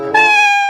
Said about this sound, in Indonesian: Si Bontot dijauhin semua kucing